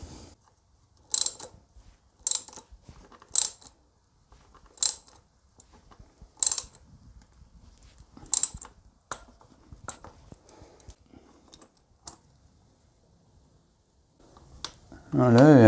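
A chain riveting tool presses a rivet link into the new chain on a Yamaha Tenere 700 motorcycle, making a close series of six or so sharp metallic ratcheting clicks about a second apart, then quieter handling noises and a rising hum at the end.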